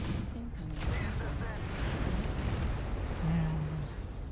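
Incoming missiles strike in MechWarrior Online, a dense rumbling barrage of explosions that swells in the middle and carries through to the end, loud and close and mixed with mechanical game noise.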